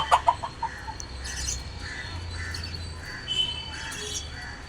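Lovebirds kept in a cage on a Chennai rooftop give a few sharp squawks and chirps at the start, then fainter scattered calls over a low steady hum.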